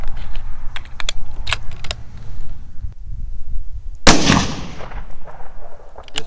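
A Bergara B14 HMR rifle in 6.5 Creedmoor fires at steel targets outdoors, with faint clicks and handling noises before a single loud, sharp shot that rings out and decays.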